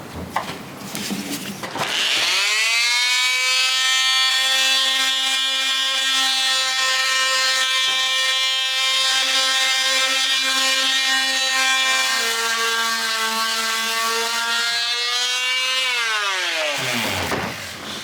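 A triangular detail sander running with 60 grit paper: after a brief lead-in, a loud, steady buzzing whine with a strong tonal hum holds for about fifteen seconds, then winds down as it switches off.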